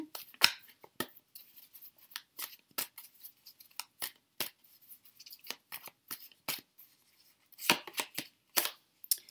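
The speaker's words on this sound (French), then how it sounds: "Vous mélangez vos cartes." Tarot de Marseille cards being shuffled by hand, a quiet series of crisp papery riffles and slaps in irregular bursts with short pauses between.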